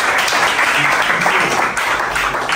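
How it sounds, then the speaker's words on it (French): A crowd at a fashion contest event in Pointe-Noire, Congo, applauds a contestant, loud continuous clapping filling a short stretch without speech. "Applaudissez pour lui,"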